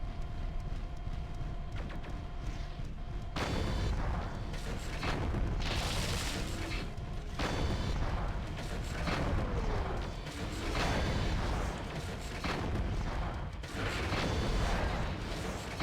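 Heavy weapon fire and booming explosions as a mech is destroyed in MechWarrior 4: Mercenaries, a run of loud, rumbling blasts and mechanical clanks that continues steadily with no voices.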